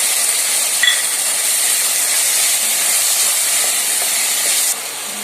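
Finely chopped tomato hits hot oil with frying ginger-garlic masala for a drumstick fry, setting off a loud, continuous close sizzling hiss that eases slightly near the end, with no talking.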